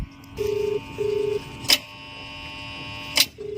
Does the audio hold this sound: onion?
no